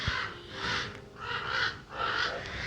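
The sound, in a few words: birds calling outdoors, crows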